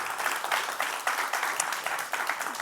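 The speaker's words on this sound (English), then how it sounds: "So, Amazing. little applause." Audience applause at a charity fundraising evening, a steady patter of many hands clapping at moderate distance for a few seconds.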